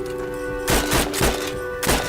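Several sharp bursts of Heroes & Generals gunfire, loud and close, with steady electronic background tones between shots.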